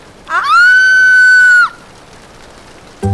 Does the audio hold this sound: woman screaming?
yes